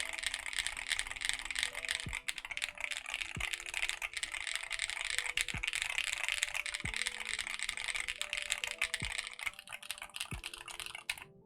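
Steady, fast typing on an Ellora65 mechanical keyboard fitted with proper keycaps, crisp clacky keystrokes close up in a continuous run with no talking.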